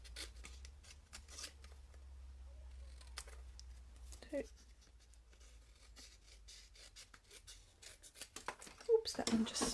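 Scissors trimming stamped paper notecards, giving a few faint, close snips and paper rustles under quiet talking.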